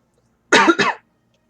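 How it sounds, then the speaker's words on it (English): A single close throat clearing in two quick bursts, short and forceful, against silence. "just clearing my throat"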